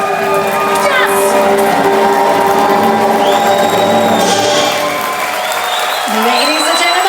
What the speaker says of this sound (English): Keep that applause going for Headliner Showtime, starring Scotty Kavanaugh.